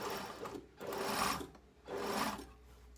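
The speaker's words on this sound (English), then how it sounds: "I'm going to sew up that edge." A sewing machine stitches the side seam of a silk and cotton wrap lining in two short bursts of fast whirring, close and clear, with brief pauses between.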